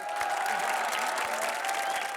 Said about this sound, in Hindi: जोरदार तालियां विशाल और राजीव निगम के लिए